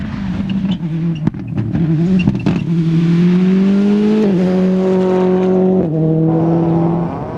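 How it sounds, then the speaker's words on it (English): A Toyota Ireland Corolla rally car, driven hard on a 2002 rally stage at Punchestown, roars loudly past with a steady high engine note climbing through the gears and dropping at two sharp gear changes, no voices over it. "It's brilliant to see McHale murdering the Toyota Ireland Corolla again"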